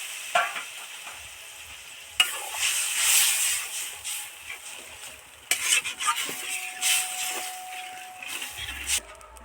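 Water poured into a pan of frying potato and egg curry sets off a loud, hissing sizzle that surges and then settles into bubbling, with a spoon clinking and stirring close by.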